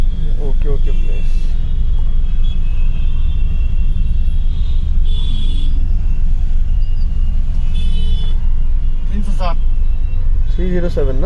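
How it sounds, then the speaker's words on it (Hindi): Heavy road traffic in India creates a dense, steady rumble of engines with scattered horn honks and a brief air-brake hiss. People talk throughout, close and loud over the traffic noise. "But look at the traffic."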